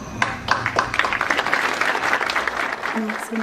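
Lively applause from a studio audience on a talk show, close and steady clapping with scattered sharp claps, lasting a few seconds as a voice begins at the very end.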